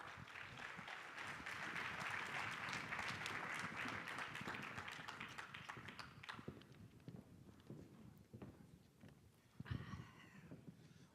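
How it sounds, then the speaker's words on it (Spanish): Applause from a corporate audience at a Nestlé México interview event, sustained and fairly full for about six seconds, then thinning into scattered claps and faint shuffling. The whole passage is quiet and distant. "Un aplauso, por favor."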